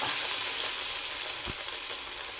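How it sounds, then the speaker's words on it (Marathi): Ghari dough, a sweet fried Maharashtrian bread, sizzling in hot oil, a steady bright hiss with faint crackles and a soft knock, close and even throughout. "हे बघा अशी ही तेलामध्ये सोडली अलगदपणे की मस्त फुगूनच वरती येते"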